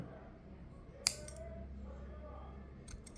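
Fishing line being cut with scissors gives a single sharp snip, faint and close, with a couple of soft clicks afterward in a quiet room.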